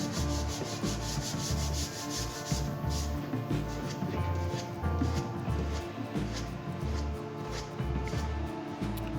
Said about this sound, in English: I work up through the grain, sanding to 120, raising the grain, sanding to 120 again, and then ultimately sanding to 220